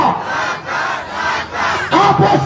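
A street crowd at a political rally in Bangladesh chants the slogan "Delhi na Dhaka" in loud unison, rising and falling in four rhythmic rounds of massed voices.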